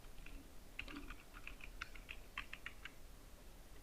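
Watermark text being typed on a computer keyboard: quiet, irregular bursts of crisp key clicks with short pauses between words.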